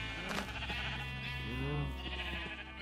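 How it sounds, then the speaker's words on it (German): A sheep in the video game Minecraft bleats in a short wavering cry over a steady background hum, fairly clear and alone with no speech. "Was ist das für ein geiles Breakdance-Schaf?"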